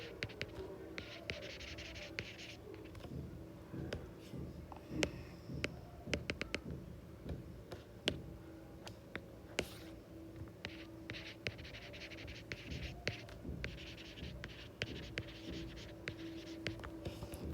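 Notes are written by hand during an audit class, with faint scratching pen strokes and small taps that continue quietly throughout with no voices.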